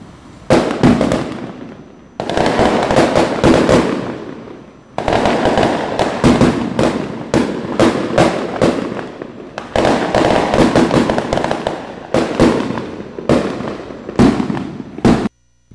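Fireworks exploding in the Torre neighborhood, a rapid, loud barrage of cracking bursts and booms in dense clusters with brief gaps, continuing for about fifteen seconds before stopping abruptly.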